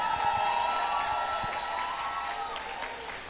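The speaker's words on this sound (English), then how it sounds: "Give them a round of applause." Applause for associate degree students standing at a college awards ceremony, soft steady clapping from an audience heard at a distance, with a faint sustained tonal hum running beneath it.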